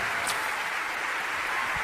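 Applause from an audience at a medical talk event, a dense, steady wash of many hands clapping at once, continuous and moderately loud without pauses.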